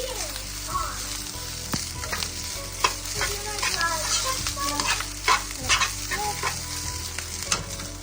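Rice is stirred in a pan, with a continuous sizzle and frequent scraping, tapping strokes of a utensil, close by and with no talking.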